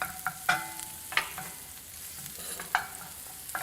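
Shallots sizzling in a hot pan for a tomato sauce, with a soft steady frying hiss broken by several sharp scrapes and clacks of a utensil stirring them.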